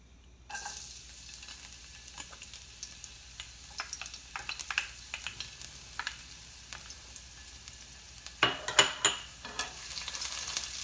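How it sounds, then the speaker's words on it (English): Garlic frying in a pan as the first step of Kapampangan pork and beef giniling, with a soft steady sizzle under repeated scraping, tapping stirs of a utensil that grow busier and louder toward the end. "We're gonna put the garlic."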